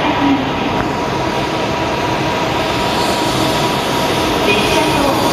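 Broadband rumble and rushing noise of an N700S Kamome Shinkansen train pulling into Shin-Omura Station on the Nishi-Kyushu Shinkansen, steady and fairly loud throughout, with no talking.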